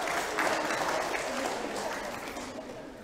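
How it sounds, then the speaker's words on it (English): An indoor audience claps for a performer and helper, dense steady applause that fades gently toward the end, with voices faint underneath. "Give Jonathan and his helper a round of applause."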